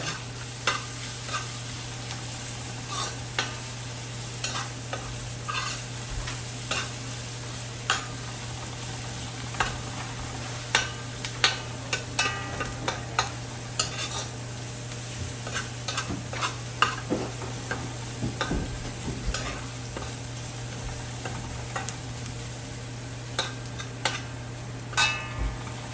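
Food sautés in a pan at a home cookout, with a steady low sizzle and a constant hum underneath, broken by frequent scrapes and clicks of stirring throughout, close and without talk.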